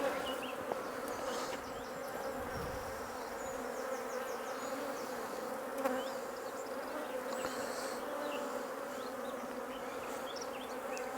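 Honeybees in a National hive drone steadily during an inspection, a dense, close buzz that carries on unbroken throughout, with a few faint knocks of the frames.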